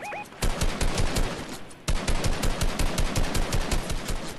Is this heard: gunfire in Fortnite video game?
yes